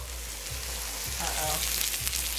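A burger patty sizzles on a griddle while an oversized spatula flips it, a close, steady frying hiss with a few soft scraping knocks roughly every half second.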